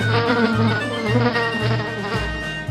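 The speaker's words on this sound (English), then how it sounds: "Fly." A housefly drones continuously and close up, a steady buzzing over a soft, pulsing musical beat.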